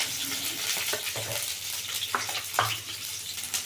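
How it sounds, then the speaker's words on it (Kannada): Curry leaves and green chillies fry in hot oil in a heated pan, a steady crackling sizzle with a few sharper spits and stirring clatters, close and moderately loud, no voices. "ಕರಿಬೇವು, ಹಸಿಮೆಣಸಿನ್ಕಾಯಿ ಇದನ್ನು ಫಸ್ಟ್ ಫ್ರೈ ಮಾಡ್ಕೊಳ್ಳೋಣ."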